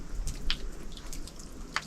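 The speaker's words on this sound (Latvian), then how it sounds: "Ūdens pilas, vēja šalkoņa" Water drips inside a sandstone cave at the Stoķu cliffs, a few faint, sparse drops falling into a quiet, low background hum.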